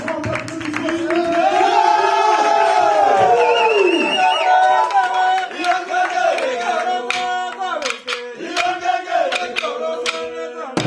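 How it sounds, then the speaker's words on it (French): A crowd at a Molenbeek gathering cheers, whoops and claps loudly and continuously, with rising and falling voices over dense clapping throughout. "grand applaudissement"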